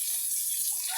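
Water is poured over pigs to bathe and cool them on a hot day, giving a steady, close rush of splashing water with no talk.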